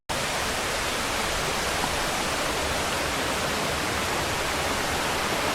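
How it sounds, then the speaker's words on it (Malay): A mountain river on the Gunung Nuang trail via Pangsun rushes at a river crossing, making a loud, steady, unbroken roar of water close by with no voices. "Dah masuk dalam untuk melintas sungai."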